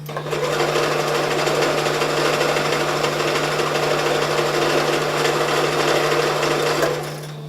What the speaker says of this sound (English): we're just stitching everything together, all of my strips, and we're on the last one now